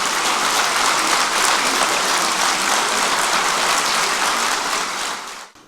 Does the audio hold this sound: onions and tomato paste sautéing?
no